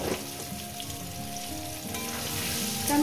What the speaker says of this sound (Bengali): আমি লাল লাল করে ভেজে নেবো বন্ধুরা